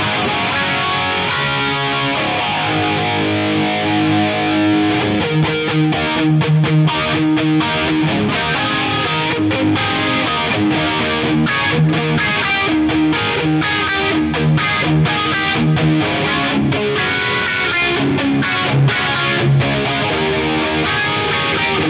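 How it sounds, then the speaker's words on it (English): An electric guitar runs through an analog mono flanger on a Fractal Audio FM9, playing distorted chords and riffs with a subtle sweeping whoosh. It is loud and continuous, with choppy gaps between strums and no voices. "That is the flanger, quite subtle."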